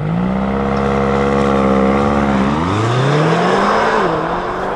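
A 750-horsepower BMW XM performs a launch control start heard from outside, its engine note loud and close, climbing steadily in pitch through the gears with a brief shift dip, no talking over it.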